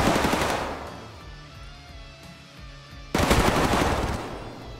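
Loud automatic gunfire from a weapon in the video game Escape from Tarkov, a dense burst at the start, a quieter lull, then another sustained close volley near the end.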